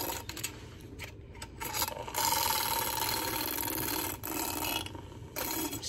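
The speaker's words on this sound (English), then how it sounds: "Now we're gonna make some cold foam by whisking it up real good." Pumpkin cold foam being whisked up, with a fast, scratchy buzzing churn that runs steadily, dipping briefly in a few places.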